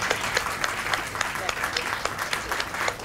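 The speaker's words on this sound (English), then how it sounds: "please give them a big round of applause" An audience applauds panelists at the close of a discussion on Myanmar's 2015 election, a dense, steady patter of many hands clapping at moderate distance for several seconds.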